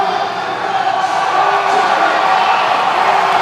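A crowd at the Arnold Strongman Classic roars and cheers in a loud, sustained wave throughout, with a commentator talking over the noise.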